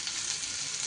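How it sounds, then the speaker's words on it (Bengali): Chopped onion frying and being stirred in a hot pan, giving a steady, dense sizzle that stays even and close throughout. "এইবার পেঁয়াজটাকে একটু বেশ ভালো করে নাড়িয়ে চাড়িয়ে ভেজে নিতে হবে।"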